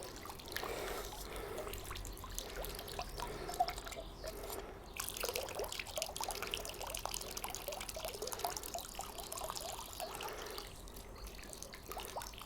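A faint, thin trickle of water dribbles from a pool vacuum pump rigged with PVC pipe, a weak, steady splashing flow heard close and quiet with no talk.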